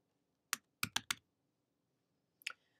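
Sparse clicks on a computer keyboard, a few close, crisp keystrokes with a quick cluster of three, then a pause and two more taps in a quiet room.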